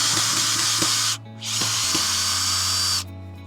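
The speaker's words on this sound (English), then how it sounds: "So got my drill." A cordless drill whirs in close, loud bursts while undoing screws outdoors on an allotment, running steadily, pausing briefly after about a second, then continuing before stopping.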